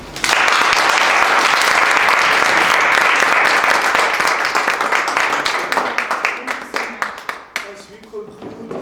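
A club meeting audience applauds its speakers and volunteers, dense loud clapping that swells at first, then thins into scattered claps and fades near the end.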